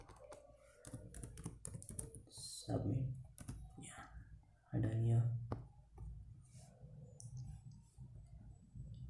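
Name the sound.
typing on a computer keyboard while writing HTML code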